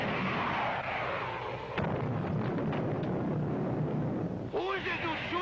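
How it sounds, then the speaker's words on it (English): Two missiles fired and exploding in a 1954 sci-fi space TV show, a sustained roaring rumble with bursts that swells and carries on loud for several seconds without pause. "Prepare to fire 2 missiles on a 5-count, Biff."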